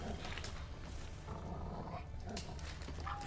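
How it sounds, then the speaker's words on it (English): Wolves growl in The Witcher 3: Wild Hunt, a low continuous snarling rumble that runs the whole stretch amid game ambience, fairly faint and without a break. "아우 근데 늑대들이."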